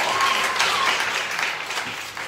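Audience applause fills the air after a woman's singing performance from a balcony, a steady wash of many hands clapping that slowly thins toward the end.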